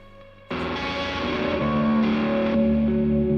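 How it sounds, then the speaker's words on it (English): A sustained, heavily distorted electric guitar loop through an Old Blood Noise Beam Splitter distortion pedal kicks in abruptly after a brief quiet start, thick and buzzy with effects, playing on without talk. "we've heard the three different types of distortion we can get"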